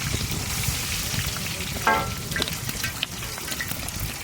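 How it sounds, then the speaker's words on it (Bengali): Mustard oil sizzles and crackles steadily in a village kitchen wok, a close continuous fry with brief sharper spatters partway through and no talking. "কড়াই চাপিয়ে দিয়েছি সর্ষের তেল"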